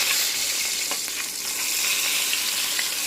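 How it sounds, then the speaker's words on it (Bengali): Large silver fish pieces frying in a pan, a steady loud sizzle of hot oil with a few brief crackles, no voices. "আমি অপর পিসটা আবার ভেজে নিচ্ছি"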